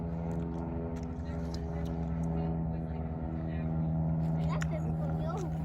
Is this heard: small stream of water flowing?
no